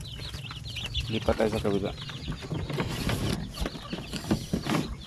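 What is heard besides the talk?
incubator-hatched chicks peeping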